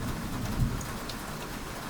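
Steady rain pours down at night over a city, a dense, even wash of falling water with no breaks and a low rumble swelling briefly near the start.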